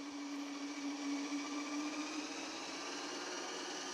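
An Ooni Halo Pro spiral mixer runs at speed 70 of 100 as a steady, close motor whir with a constant tonal hum, no talk over it.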